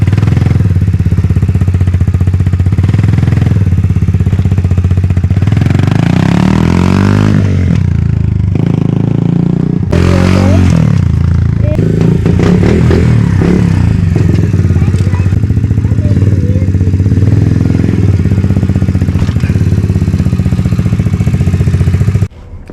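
A KAYO TD 110 EFI dirt bike being ridden close by, its small single-cylinder engine revving hard and loud throughout, rising and falling with throttle changes, with scraping and clattering from the ride before a sudden cut at the end.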